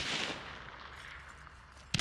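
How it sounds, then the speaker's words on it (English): Blank fire decoy in the game Hunt: Showdown going off, giving a faint, distant gunshot-like crack that trails into a low rumbling echo, and a sharper click right at the end. "Blank fire decoys mimic gunshots."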